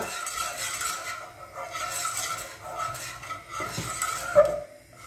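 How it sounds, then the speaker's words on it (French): Flour is stirred into melted butter in a pan over gentle heat, giving soft scraping and rubbing strokes with faint utensil clinks against the pan, quiet and close with no voices. "vous mélangez de la farine dans le beurre"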